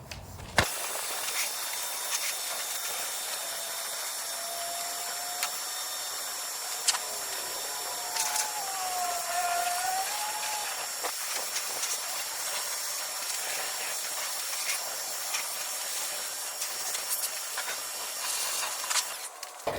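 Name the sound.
water hose rinsing soap off an RV surface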